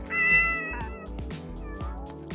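A kitten meows repeatedly in a Toca Boca video game, a series of close, bright, cartoonish mews in quick succession with no talking.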